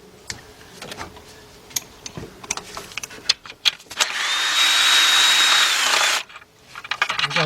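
Clicks and ratcheting from loosening starter bolts on a BMW with an 11mm socket lead into a steady two-second whir of a power tool, then more clinks.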